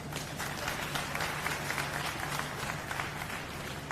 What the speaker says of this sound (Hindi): दोनों मुख्य अतिथियों के लिए जोरदार तालियों की गड़गड़ाहट के साथ स्वागत चाहते हैं